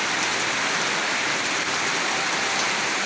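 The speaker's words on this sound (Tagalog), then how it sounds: "Grabe ang lakas ng ulan." Heavy typhoon rain pours down in a dense, steady hiss across a garden with mango trees, loud and close, with no voices over it.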